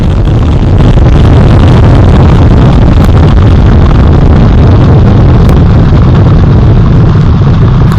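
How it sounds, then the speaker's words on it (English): Artemis 1 rocket in flight under four RS-25 core stage engines and two solid rocket boosters, a continuous heavy crackling roar that stays loud and saturated from start to end. "All 4 RS-25 engines on the core stage and 2 solid rocket boosters now propelling the vehicle"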